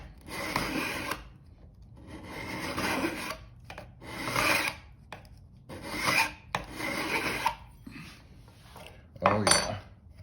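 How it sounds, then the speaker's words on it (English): A hand file rasps across metal while a guitar neck and fingerboard are being shaped and blended. Five or six separate strokes of rough scraping come close and clear, each with a short pause between, and there is no talk. "So I use a file, and it keeps it straight."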